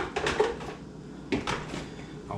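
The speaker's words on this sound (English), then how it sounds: "when I use metal on my cast iron skillet" A metal utensil scrapes and clinks against a cast iron skillet while fish roe cooks for breakfast, giving a few short, fairly quiet metallic knocks separated by a pause.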